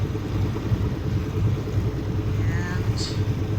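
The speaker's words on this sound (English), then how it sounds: "Let the engines warm up a little bit before we take off." Boat engines warming up at idle on Lake Michigan, a steady low rumble holding close and even for a few seconds, with a brief higher whine near the end.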